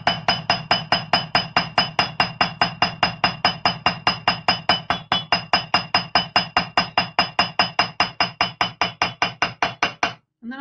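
A round hammer strikes the edge of a metal pendant in a steady, fast rhythm, about forty sharp close taps over ten seconds, then a brief pause and a final soft knock.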